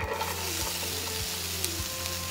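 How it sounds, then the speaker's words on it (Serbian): Soft, continuous sizzling of food frying in hot oil, a steady crackle with faint stirring scrapes. "Ulje se zagrijalo i spuštam luk."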